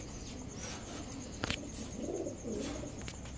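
Soft, low pigeon coos repeat a few times against a hissy background, with a brief sharp knock in the middle.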